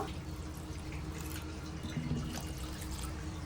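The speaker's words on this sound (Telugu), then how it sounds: "ఇప్పుడు మనమైతే వాటర్ పోసుకుందాం ఇందులో" Water poured into a pot of rasam with spices, a soft continuous trickle and splash close by, fairly quiet and steady from start to finish with no talking.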